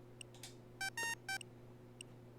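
Electronic beeps from the video game Kingdom Hearts 3: a quiet sequence of short tonal blips with three longer, louder beeps in the middle, over a low steady hum, with no speech.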